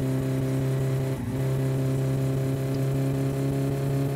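A car engine in the My Summer Car video game drones at steady revs, with a brief dip as it downshifts before a bend, then holds a constant hum.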